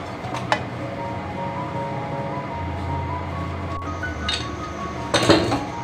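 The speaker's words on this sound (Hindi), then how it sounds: "मैं सिंपल से स्टर कर लेती हूँ।" Julienned ginger being stirred in a pan over a low flame, with a few metallic clinks of a utensil against the pan over a steady low background, the sharpest knocks near the start and the end.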